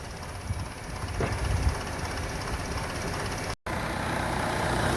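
The engine of a 2006 Chevy Trailblazer runs before a fuel system cleaning, giving a steady, loud, rough drone close by that holds level throughout, apart from a split-second dropout.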